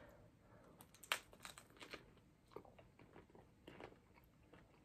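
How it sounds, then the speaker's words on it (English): Crunchy bites and chewing of a strawberry-frosted Valentine's dessert, a sharp crack followed by several crisp, close crunches in an irregular rhythm with no talking. "I love the crunch."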